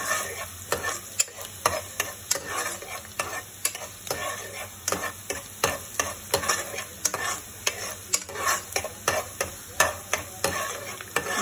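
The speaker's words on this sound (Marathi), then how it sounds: "कांदा थोडा शिजवायचा आहे तेलामध्ये" Onion cooking in oil over a medium flame, a constant close sizzle punctuated by quick rhythmic scrapes and taps of a spoon stirring the pan, steady throughout with no speech.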